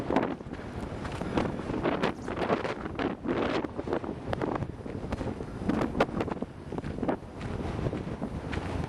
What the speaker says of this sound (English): And you can hear the wind.